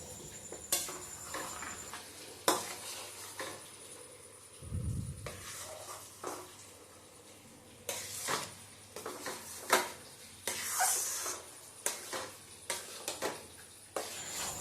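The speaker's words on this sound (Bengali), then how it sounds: "তো এটাকে সুন্দর করে ঢেলে দিয়ে এরপর এটাকে সমানে নাড়তে হবে, যেন নিচে এটা ধরে না যায়।" Thick chana dal halwa being stirred in a kadai, with repeated scraping and clinking of the spoon against the pan in uneven bursts, close up, plus a brief low thump partway through and no speech.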